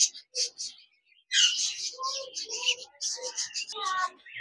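Several small caged lovebirds chirp and tweet in quick, bright bursts, close by, with a short quiet gap near the start.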